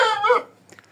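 A young chicken, hatched around late February or early March, gives one short, loud, harsh cluck close by, which then trails off into faint quiet noises.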